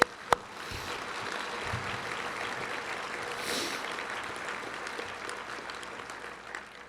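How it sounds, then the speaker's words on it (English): An audience at the PVREA 2025 annual meeting gives a round of applause, with dense, steady clapping that holds evenly throughout at moderate loudness. "So maybe we could give them a quick round of applause."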